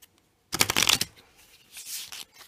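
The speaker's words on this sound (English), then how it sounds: "now I'm going to shuffle in the matchday cards to the remaining position cards" A quick riffle of playing cards being shuffled close by, a burst of rapid flicks followed by softer sliding and tapping.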